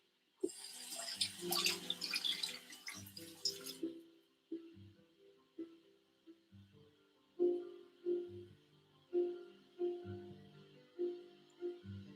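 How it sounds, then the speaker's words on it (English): Water runs from a tap at first while something is rinsed beneath it, then the flow stops and a series of soft, distinct knocks and drips follows, fairly close and with no talking. "Let me wash this again."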